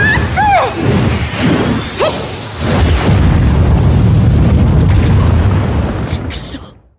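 Mashiro's special attack in the Bleach Brave Souls mobile game sets off loud booming impacts, crashes and whooshes packed into a dense burst of effects, with shouted character voices over the top before it fades out.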